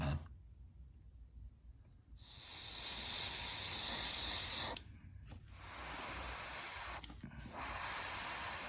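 Clear coat sprayed onto a homemade suspending jerk bait lure, three separate bursts of steady aerosol hiss, near and fairly loud, divided by short pauses.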